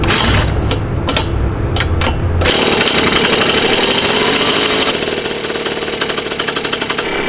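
A moped engine is kick-started with a few hard knocking kicks, then catches and runs loudly with a rapid, rattling putter close by, while the engine smokes and leaks a little oil.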